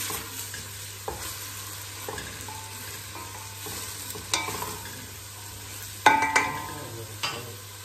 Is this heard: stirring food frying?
yes